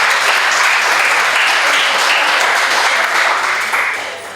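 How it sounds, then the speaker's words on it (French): Loud, dense applause from an audience at an association's 25th anniversary event in Grignols, honouring its members and secretariat. It holds steady and close, then begins to taper in the final second. "On peut aussi les applaudir parce qu'il y a beaucoup de travail"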